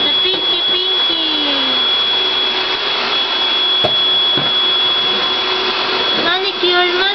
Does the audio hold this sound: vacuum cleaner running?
yes